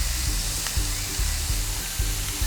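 Onions and capsicum roasting in a pan with salt, a steady close hiss of frying with soft rhythmic scraping or stirring strokes repeating underneath.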